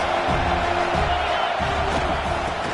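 Crowd noise fills a college football stadium during Michigan vs USC, a steady, moderately loud wash of thousands of fans murmuring and roaring while the defense lines up, with no clear individual cheers.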